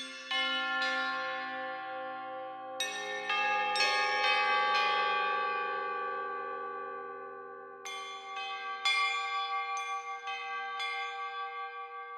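Mystic Bells preset from the Fornax pitched percussion plugin: clear ringing bell tones struck in groups, with long shimmering decays that overlap, then a fresh cluster of strikes.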